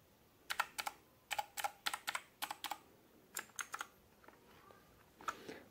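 Typing on an RK61 60% hot-swap RGB mechanical keyboard with blue switches: crisp, clicky keystrokes close up, coming in quick irregular bursts with short pauses, alone in a quiet room.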